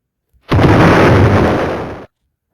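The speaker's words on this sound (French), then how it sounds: "Là, on dépose la bombe. Vite. Et on explose." A bomb detonating in a video game: a single loud, close blast that erupts abruptly and roars steadily for about a second and a half before cutting off sharply.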